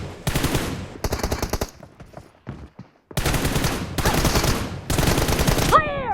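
Rapid automatic gunfire from a shooting video game, loud bursts of repeated shots in several volleys with short pauses between them, and a sharp ricochet-like whine near the end.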